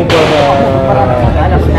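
Loud, close gunfire from an open-class pistol at a shooting competition, a sharp blast at the start followed by reverberating report, with a voice talking over it.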